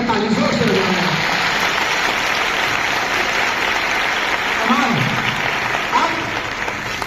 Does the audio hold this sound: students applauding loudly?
yes